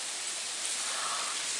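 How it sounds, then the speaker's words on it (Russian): Steady rain heard through an open window, a dense even hiss of falling drops filling the whole clip with no talk. "Дождь!"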